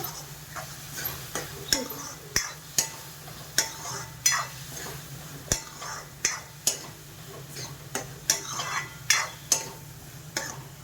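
Onion and tomato cook in a pan for pav bhaji, a soft sizzle under steady, evenly spaced spatula taps against the pan, close and moderately quiet.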